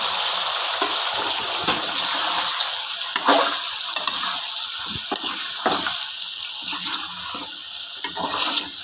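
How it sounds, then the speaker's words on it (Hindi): Boiled beef fries in karahi masala in a pan, producing a loud, continuous sizzling hiss broken by repeated scraping and clattering stirs. "अब हम जो इसमें वो बॉइल किया वो गोश्त डाल के इसको फ्राई करेंगे।"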